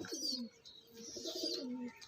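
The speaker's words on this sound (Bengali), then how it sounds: "পায়রাটা খুবই ছটফট করছে" A restless pigeon, being handled while treated for pox, coos in two soft, close phrases with brief chirpy notes between them, no talk over it.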